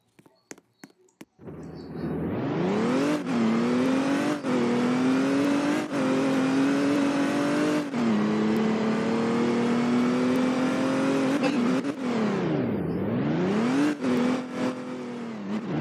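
A car engine in the video game Liberty Country revs loudly and continuously, its pitch climbing and settling through steady acceleration, then dipping sharply and rising again near the end, with no talk over it.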